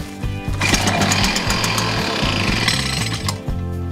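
A backpack leaf blower's small two-stroke engine, left sitting ten years, catches and runs loud and close: a rough, rattling idle that climbs into a buzzing, steady run before it tapers off.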